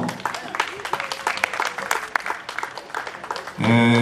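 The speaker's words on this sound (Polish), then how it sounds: "Oklaski dla naszego klarnecisty, saksofonisty i multiinstrumentalisty Michaela Browarnego." An audience claps warmly at an outdoor concert by a police orchestra, a steady wash of applause under a speaking voice, and instrumental music swells in near the end.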